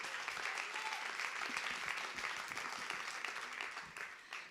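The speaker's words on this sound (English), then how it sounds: "A warm applause for Dion Rosina." An audience at an arts award ceremony livestream gives sustained, even applause, a steady wash of many hands clapping at moderate distance throughout.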